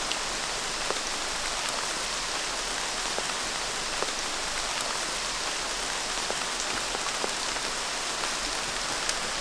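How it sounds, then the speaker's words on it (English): Heavy rain teeming down in a Sunshine Coast rainforest, a steady dense hiss of drops on leaves and surfaces with scattered sharper nearby drips, continuous and loud with no voices. "it is teeming down"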